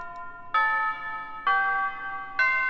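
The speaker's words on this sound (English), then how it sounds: "It's a tubular bell" Tubular bell struck three times at an even pace in a beat, each bright, ringing strike sustaining with metallic overtones until the next hit.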